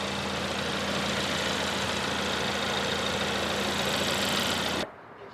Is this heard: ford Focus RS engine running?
yes